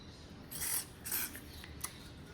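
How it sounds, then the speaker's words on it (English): WD-40 sprayed onto the handlebar of a 2022 Honda Africa Twin CRF1100L, heard as two short, soft hissing bursts close by, followed by a faint click. "I'm gonna use some WD-40."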